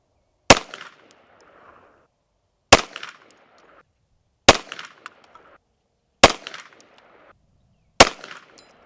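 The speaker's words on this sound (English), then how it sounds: "We're just gonna shoot 5 rounds, 5-round group, 50 yards." Five sharp, loud gunshots from an SP9A1 Stribog 9mm carbine fired at a 50-yard target, evenly spaced about two seconds apart, each with a brief ringing outdoor echo and no talking.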